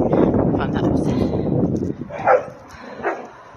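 Puppies running and barking outdoors, a few yips and barks standing out after a stretch of talking, with rustling movement throughout.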